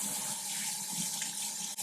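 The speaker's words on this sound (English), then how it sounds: "now I'm gonna rinse some of the scales off." Cold tap water runs steadily to rinse scales off a hatchery rainbow trout, a continuous close hiss and splash with no voices.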